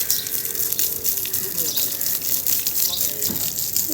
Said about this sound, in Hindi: कहनी बाबा ईंटों को पानी लगा रहे।